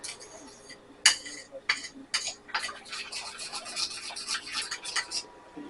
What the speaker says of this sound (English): we've got our 3 tablespoons of honey inside this room temperature butter. And we are just gonna stir it up really good